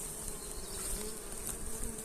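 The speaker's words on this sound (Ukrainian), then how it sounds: "Ось Карпатка бджола." Carpathian honey bees swarm over hive frames, a dense, continuous buzzing hum from many insects close by, steady throughout with no voices.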